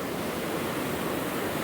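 Broadband ocean surf on the Oregon coast during a surf fishing trip, a steady wash of breaking waves with no clear individual crashes, fairly loud and continuous with no talking.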